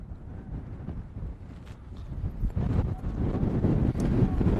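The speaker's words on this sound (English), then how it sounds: "Grant, because it's so windy, it does affect the ball." Strong wind buffets the microphone at an outdoor youth soccer match, a continuous low rumbling roar that swells louder toward the end, with faint voices underneath.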